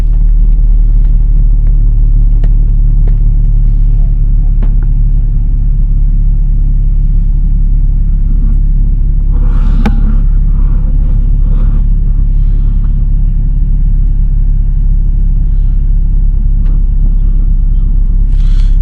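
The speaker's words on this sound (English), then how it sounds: "So to run it, you've got to start the engine." A Mercedes C180 Kompressor 1.8 W203 engine idles steadily with a low, constant rumble throughout, close by and loud, with a few faint clicks and a brief rattle midway.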